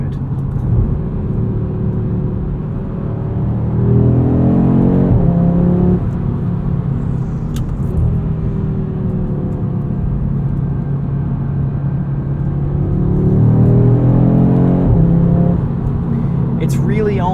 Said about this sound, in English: this RS3 is a bit neutered when it comes to noise, unfortunately. It does sound phenomenal, though.